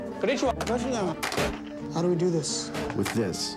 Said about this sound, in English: stop hitting the TV